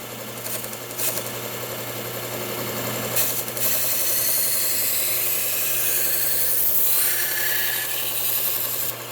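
A badly chipped knife being sharpened, a continuous rough grinding rasp with a low steady hum, rising and swelling in a few stronger strokes, close and unbroken.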